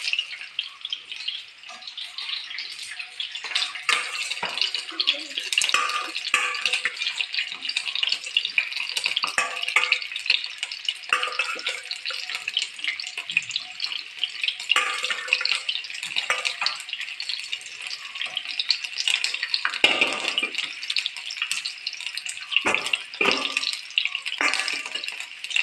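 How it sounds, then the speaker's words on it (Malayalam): Eggs frying in a pan give a steady, close sizzle with dense crackling and popping throughout, with no voices. "മുട്ട ഫ്രൈ ചെയ്യാൻ വെച്ചിട്ടുണ്ട്"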